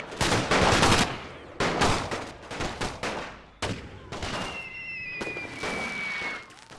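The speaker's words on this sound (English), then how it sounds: "And they're taking heavy fire from artillery" Artillery and gunfire in a WW1 siege battle from The Great War Total War mod, loud heavy booming blasts and crackling rifle and machine gun fire in dense overlapping bursts, with a whistling shell streak.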